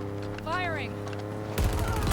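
Weapon fire in the Halo Infinite video game at an excavation site: a dense, loud burst of rapid shots erupts late and keeps going, preceded by a brief warbling tonal sweep over a steady low hum.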